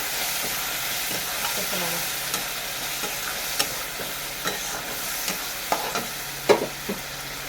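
Spice paste frying in a pan gives a continuous sizzle, with repeated scraping stirs and a few sharp clicks of a spoon against the pan, no talking.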